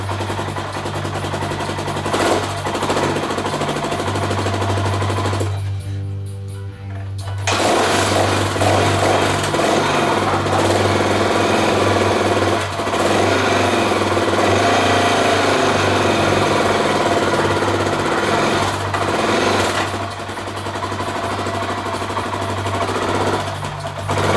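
Honda XR600R single-cylinder motorcycle engine running after a kick start, a loud, steady close-up thumping idle with a brief dip and a few throttle swells along the way.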